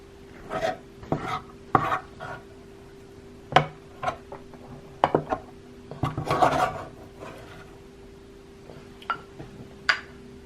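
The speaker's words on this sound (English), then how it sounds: "a non-stick spatula is the best tool to use with this Dash griddle. It works well to scoop things out." A non-stick spatula scraping and scooping food from a Dash electric griddle: scattered short rasping scrapes and soft knocks, close and fairly quiet, arriving in irregular strokes over a faint steady hum.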